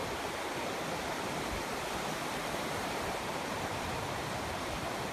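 A mountain stream rushing beside a trail in Valea Viștea Mare on the route to Moldoveanu Peak, a steady broadband water roar, close and constant, no talking.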